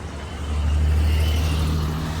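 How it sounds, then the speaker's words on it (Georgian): A city bus passes along a street, a low engine rumble building and holding steady, loud and close, with no talk over it. "ავტობუსი."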